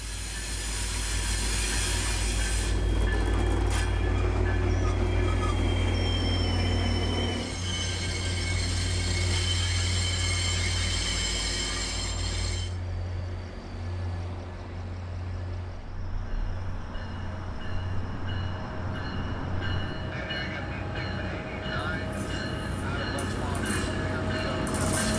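A Tri-Rail commuter train rumbles past at West Palm Beach, a loud sustained roar of engine and rolling wheels with a faint squeal, fading and changing character as the cars clear the crossing.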